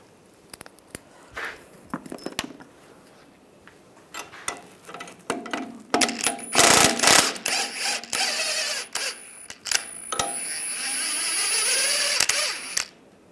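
A 17mm wrench and 16mm socket loosen and pull the lower shock bolts on a 2007-2013 Chevrolet Silverado 1500, giving close metallic clicks, ratcheting and scraping that build into a denser stretch of clanking and grinding.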